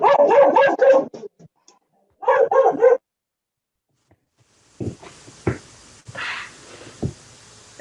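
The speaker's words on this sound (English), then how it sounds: "that would be from the peanut gallery, my dog Daisy, apologize." A dog barks in rapid bursts, two loud clusters of barks close by, followed by scattered knocks and softer noises after a pause.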